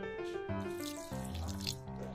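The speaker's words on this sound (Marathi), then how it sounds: "आता पाणी टाकून घेऊ" Water is poured from a tap into a mixer jar of peanut chutney, a steady close splashing flow with a faint hum underneath.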